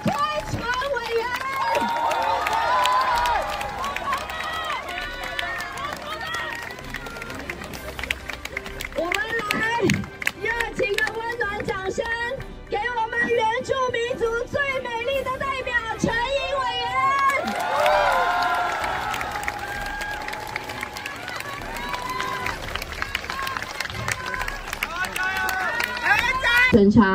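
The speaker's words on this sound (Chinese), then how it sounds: "掌声不要停，我们欢迎我们的李开全委员。" A large crowd at a student and citizen protest rally outside the legislature keeps up continuous cheering, clapping and shouting, while an amplified voice speaks over the noise throughout.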